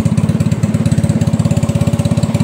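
A Yamaha Mio Soul scooter with a starting fault turns over on its electric starter, giving a fast, regular cranking chug close by that runs without a break.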